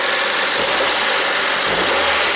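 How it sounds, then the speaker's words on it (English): A 2003 Mazda Protege engine with a misfire at idle runs just off idle, a steady loud hum with broad noisy texture throughout and no voices. "So just off of idle, it seems to be running fairly smooth."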